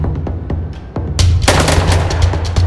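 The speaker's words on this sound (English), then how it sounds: "Shots fired." Gunshots in an LS-RP roleplay game, a few sharp separate cracks at the start, then a loud dense flurry of rapid shots and booms that carries on to the end, with no talking.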